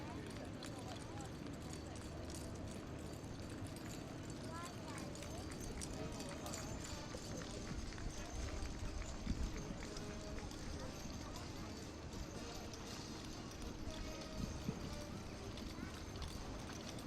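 A team of six working horses clip-clops at a heavy horse championship at the Royal Highland Show, steady hoofbeats blended into a constant crowd and arena noise, with a commentator talking over them.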